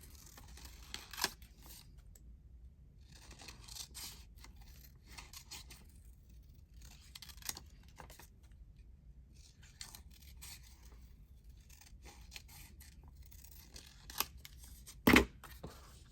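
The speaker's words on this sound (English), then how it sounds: "Cutting on the inside of the line, I'm just going to cut it a little bit smaller." Scissors cut paper to trim upcycled envelope pockets, giving quiet, sparse snips and scrapes with a sharper cut near the end, alone in a hushed room.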